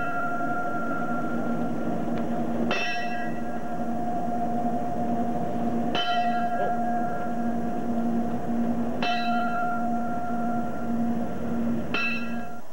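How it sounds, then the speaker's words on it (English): A fire bell outside a firehouse strikes four times at slow, even intervals, each stroke ringing out and fading over a steady low hum. "The bell was rung five times"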